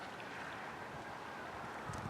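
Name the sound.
wind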